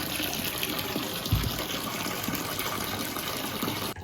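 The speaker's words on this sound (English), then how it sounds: "water has now been filled in the tub" Tap water gushes steadily into a tub set up for soaking raw wool fleece, a loud, continuous rushing pour with no voices.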